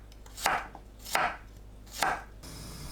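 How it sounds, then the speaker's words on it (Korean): Garlic being sliced with a knife on a cutting board, three distinct close chopping strokes spaced evenly with quiet between them. "마늘은 편으로 썰어주세요."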